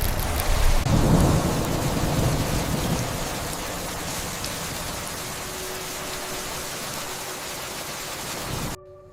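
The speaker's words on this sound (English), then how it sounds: "The weather was bad. It started to rain." Steady heavy rain pours down through a thunderstorm, with a deep rumble of thunder building early on and then fading into a continuous close hiss of rainfall that stops abruptly at the end.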